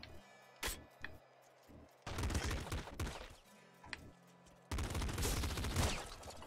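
Laser pistol fire in the video game Nuclear Throne comes as two long, loud rapid bursts of crackling shots, separated by quieter stretches holding a few single sharp hits and a low humming game tone.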